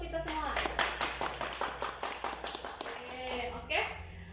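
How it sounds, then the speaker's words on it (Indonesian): A class of children clapping in a school classroom, a quick burst of many sharp claps that tapers off, with a voice speaking over it. "Beri tepuk tangan untuk kita semua"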